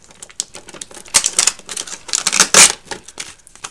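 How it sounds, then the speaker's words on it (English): Hand crank turning on a die-cutting machine, giving a loud run of rapid clattering, ratcheting clicks in uneven bursts with a sharp peak partway through, alone with no talk. "I'm going to turn my crank"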